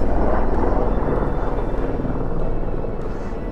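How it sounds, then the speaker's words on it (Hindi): A helicopter flies between mountains in Uttarakhand, its rotor making a loud, steady chopping drone that fades slightly toward the end, with no voices. "पहाड़ों के बीच से हेलीकॉप्टर"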